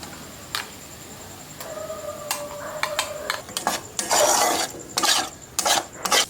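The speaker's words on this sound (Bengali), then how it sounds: "কাজু পোস্ত আর চালমগজ বাটাটা দিয়ে দিন" Metal spoon scraping and stirring a thick masala in a pan as a ground paste of cashew, poppy seed and melon seed goes in, giving irregular close rasps and clinks of utensil on metal, with no talking.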